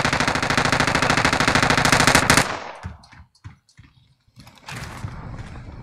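Rapid automatic gunfire rattles loud and close for about two seconds in Call of Duty: Warzone, then breaks into scattered single shots and clicks before another burst of firing resumes.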